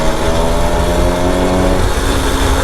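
A small 80cc two-stroke motorized bicycle engine, fitted with a Dio reed valve kit and 24mm OKO carburetor, runs steadily at a loud, close, even idle with a buzzing harmonic drone throughout.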